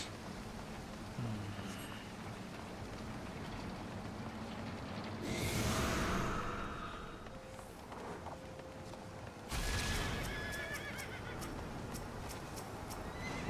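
Horses whinny in Final Fantasy XIV: two loud neighing bursts stand out over a steady game soundscape, with softer hoof and ambient textures between them.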